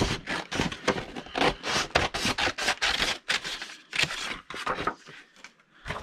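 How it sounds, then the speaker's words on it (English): Scissors snip through a paper flap during a card-making craft session, a close run of quick, rhythmic cuts and crisp paper rustles, with brief pauses between strokes and no voices. "I'm just gonna cut that flap right off"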